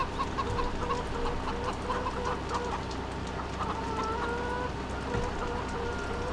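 Chickens on a farm in Farming Simulator 2015 cluck steadily under a constant loud background hum of game ambience and machinery, with no speech.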